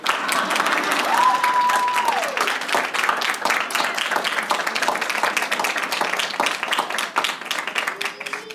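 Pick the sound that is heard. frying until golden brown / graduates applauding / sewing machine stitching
graduates applauding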